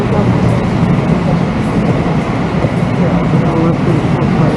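Train waiting at a station platform in Kaohsiung, Taiwan, a loud, steady rumbling drone of rail and platform noise, with a voice speaking over it.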